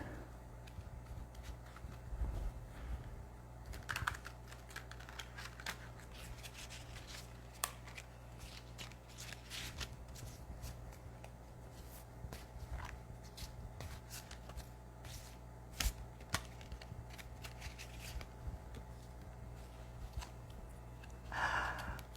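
A deck of tarot cards being shuffled close by, with soft riffling and shuffling rustles that come and go in short bursts over a faint steady hum, with no talking.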